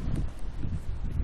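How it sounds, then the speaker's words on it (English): Outdoor wind on a cold, blustery day, a steady low rumbling buffet with gusty swells, loud and close as if hitting a handheld recording device. "it's getting kind of windy and cold"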